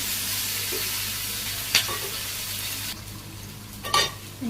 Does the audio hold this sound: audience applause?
no